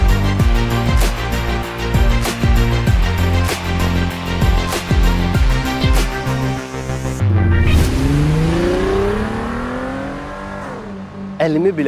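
A Mercedes W126 560 SEL Brabus engine revs up and down with a sweeping rise in pitch partway through, loud and close, over other steady tonal sound.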